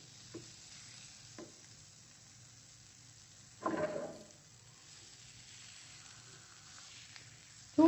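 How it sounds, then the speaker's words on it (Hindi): Lentil kebabs frying in a pan, a faint steady sizzle with a few soft scrapes and one louder stirring rustle in the middle. "यहाँ पे जो है हमारे कबाब, दाल के कबाब फ्राई हो रहे हैं"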